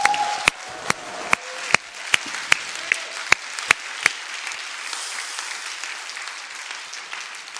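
A church congregation applauds: a few sharp, separate claps come first, then they merge into steady, sustained applause that fills the room.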